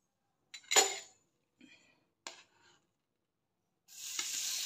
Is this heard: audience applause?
no